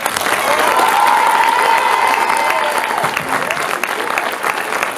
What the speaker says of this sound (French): je vous demande de l'applaudir, s'il vous plaît